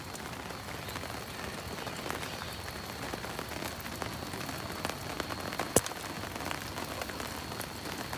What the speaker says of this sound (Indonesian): Sekarang udah jam 10 malam masih hujan juga.